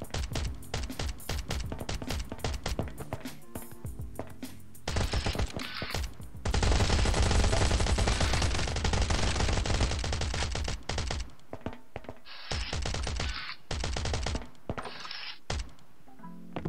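Rapid bursts of automatic gunfire in the survival video game Last Island of Survival, dense rattling volleys close and loud, with a long sustained stream in the middle and short choppy bursts around it.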